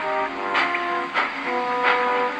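A steam engine chuffs forward slowly, three soft hissing puffs spaced about half a second apart over a steady, tonal mechanical hum.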